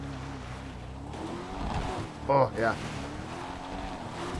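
An Invetero Coquette BlackFin car in GTA Online idles with a low, steady engine drone, and a voice briefly speaks over it.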